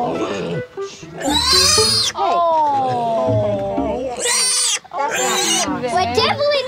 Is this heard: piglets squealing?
yes